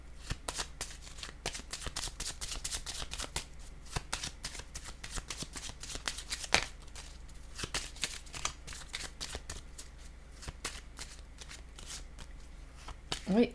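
A deck of playing cards is shuffled again and again, a steady run of crisp riffling clicks and flutters close by for the whole stretch, with a brief voice near the end.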